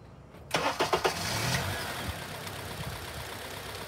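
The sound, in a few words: car engine running on all cylinders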